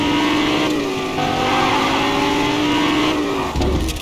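Car in Fortnite driving with popped tires, its engine droning loudly and continuously at a steady pitch, ending with a short thump near the close.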